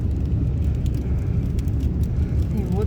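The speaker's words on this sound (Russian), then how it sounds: "Вот тебе автобус." A bus passing along a snowy road during a blizzard, heard as a steady low rumble of engine and tyres with broadband road and wind noise throughout, fairly loud and continuous.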